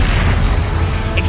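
Confringo blast spell explosion in Hogwarts Legacy, one loud, dense, sustained boom filling the whole short moment, heavy low rumble with a bright crackling top, no talking.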